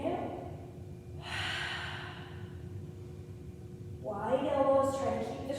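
Deep breathing during a Pilates floor workout: two drawn-out, breathy exhalation-like rushes of air, the second ending in a soft voiced sigh, heard up close over a low steady background hum.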